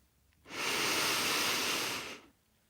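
One deep inhalation during a progressive muscle relaxation exercise, a smooth breathy rush about two seconds long, close and isolated against near silence.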